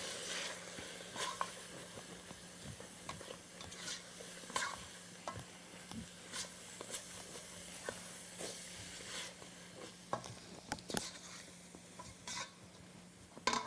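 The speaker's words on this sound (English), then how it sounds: "And I want to mix that chili powder in so that it coats all of the beef and all the other ingredients" Chili powder is stirred into browned beef and other ingredients in a pot, giving a faint, steady sizzle broken by scattered soft scrapes and clinks of the spoon against the pot, with no talking.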